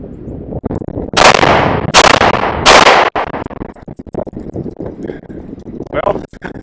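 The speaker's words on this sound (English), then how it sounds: "next up I'm going to try the 125 grain Sig Performance hollow points and see how they'll run in the Max-1." Llama Max-1 pistol firing 125 grain Sig Performance hollow points, three loud sharp shots about a second apart, followed by clicks, handling noises and brief talk.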